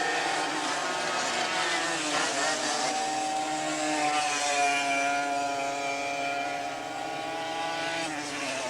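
Junior rookie sprint racing kart engines buzz in a continuous high whine at a 1979 race, several small motors blending into a steady droning pitch that shifts slightly as the karts pass.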